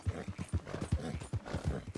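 Horse hooves clip-clop in the video game Red Dead, a quick, steady run of thudding hoofbeats at a brisk gait, close and clear with no talking.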